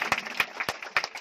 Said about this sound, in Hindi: हम चाहते हैं इस नए परिवार सदस्य के लिए जोरदार तालियां दोस्तों